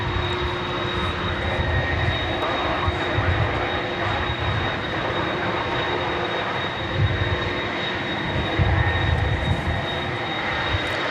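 A fixed-wing airplane takes off at DFW Airport, a loud, steady jet engine roar with a constant high whine that holds throughout, heard at a distance with no one talking.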